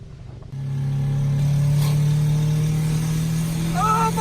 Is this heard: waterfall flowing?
no